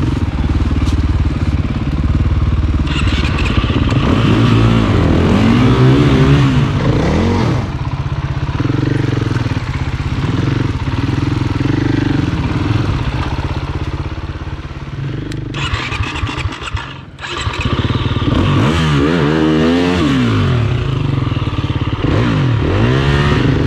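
Dual-sport dirt bike climbing technical singletrack in first gear with heavy clutch use, its engine loud and close throughout, revving up and down with clatter and a brief dip midway.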